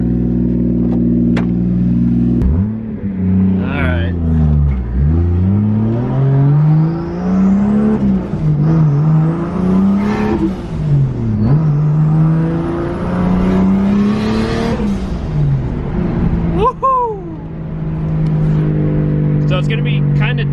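A high-revving 2JZ straight-six engine in a Nissan 240SX idles roughly, then climbs and falls through several loud revs, with a sharp blip near the end before settling back to idle.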